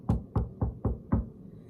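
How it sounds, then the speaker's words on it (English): Five soft, evenly spaced knocks rap on a front door, quiet and close, with no other sound around them. "heard a quiet little knock at the front door"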